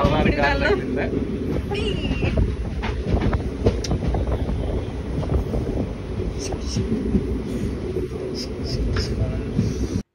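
A loud continuous rumble of a train rolling along the tracks between Hyderabad and Piduguralla, with rattling and clatter throughout and voices talking over it.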